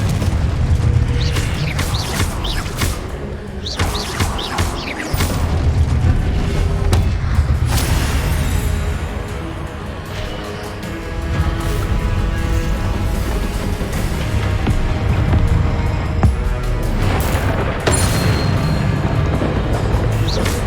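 Confringo fire spells exploding during combat in the Hogwarts Legacy video game, a dense, loud barrage of booms and blasts with crackling impacts that continues without a break.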